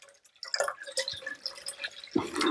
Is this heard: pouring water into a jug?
yes